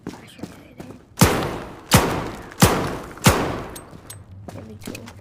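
Four loud revolver shots fired at a shooting range in the video game Zero Caliber, spaced roughly evenly apart, each a sharp boom with a decaying tail, separated by quieter handling noise.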